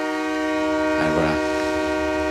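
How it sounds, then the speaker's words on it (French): An old American locomotive in the Dominican Republic sounds a steady harmonic horn, loud and sustained, while a voice briefly breaks in partway through. "Ça, c'est de la bonne grosse loco américaine à l'ancienne, avec un bon son."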